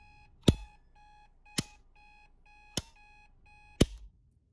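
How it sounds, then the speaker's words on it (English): An alarm clock, plugged into an outlet and used for finding the right breaker in a home electrical panel, beeps in short bursts, then goes silent when power cuts, with four sharp clunks of breakers being switched spaced about a second apart. "you can use an alarm clock to know when you get the right breaker"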